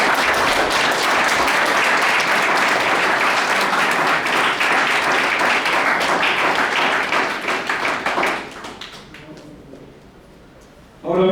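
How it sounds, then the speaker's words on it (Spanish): Loud, sustained clapping from a church congregation, steady and dense for several seconds before it thins out and fades away. "Pues dale palmas otra vez"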